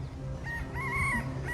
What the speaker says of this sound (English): I guess Mama Chicken